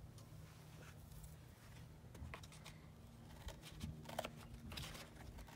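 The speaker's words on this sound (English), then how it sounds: "The first thing you want to do is cut off the lid." Scissors cut the lid off a compostable cardboard egg carton with soft, close snips and crinkling, quiet over a steady low hum.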